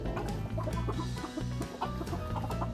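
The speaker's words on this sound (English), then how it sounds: "He's my sweet boy rooster." Soft, repeated low clucking from a rooster, steady and close, with a continuous murmur of farmyard noise underneath.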